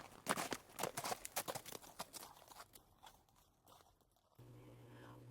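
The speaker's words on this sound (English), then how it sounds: "They heard the sound of a horse coming" Horse hooves approach slowly and carefully in a quiet outdoor night scene: a run of distinct clip-clop steps, fairly close at first and then fading, followed by a steady low hum.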